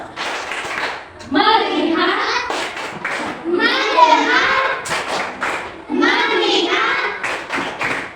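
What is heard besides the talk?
children clapping hands in a clapping game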